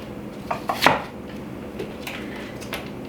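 Green onions are chopped on a cutting board for a gluten-free pad Thai garnish, a few quick knife taps close by, followed by faint kitchen clatter.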